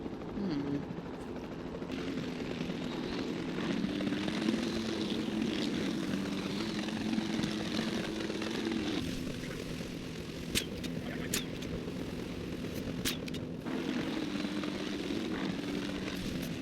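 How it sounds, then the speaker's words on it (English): A capture team helicopter in a dinosaur video game flies with a steady droning rotor and engine hum, fairly even in level and continuous throughout, with a few faint clicks and no talking. "the sensible thing is to take a capture team helicopter"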